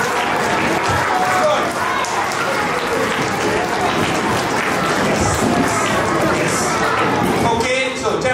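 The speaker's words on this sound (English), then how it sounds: "a big round of applause for all the" Loud crowd applause for junior school folk dance competition participants at a college event, dense clapping mixed with chatter and scattered voices throughout, with people talking over it near the end.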